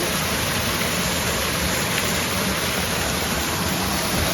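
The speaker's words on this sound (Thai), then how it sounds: "น้ำตกเลย" Water pours down an abandoned waterfall in a broad, steady, loud rush of white noise that continues without pause and without any voices.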